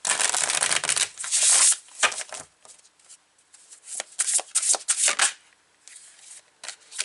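Tarot cards shuffled and slapped down on a table in quick, crisp bursts of papery riffling and flicks, with brief pauses between handfuls, close and fairly loud with no voices.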